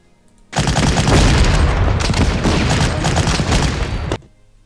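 Infantry gunfire in the WWII strategy game Panzer Corps Gold: a dense, loud burst of rattling fusillade and booms, steady for about three and a half seconds, then cutting off abruptly.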